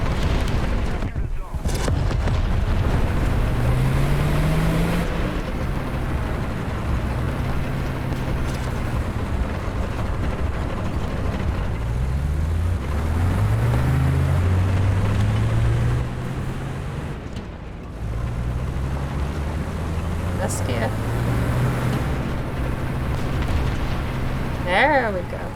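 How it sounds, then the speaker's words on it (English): A tank engine in War Thunder drones loudly and continuously at low pitch, its revs rising and falling in several sweeps as the throttle eases on and off, with a voice talking over it throughout. "I switched my tank to manual and he still lets his foot off the throttle as if he's going to change"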